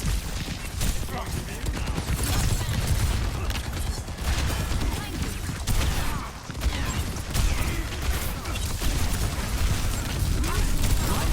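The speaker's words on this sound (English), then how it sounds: "why is this guy shooting the fucking wall?" Dense rapid gunfire rattles on without pause in a zombie video game, sustained bursts of pops and mechanical clatter at high level, with a voice talking over it.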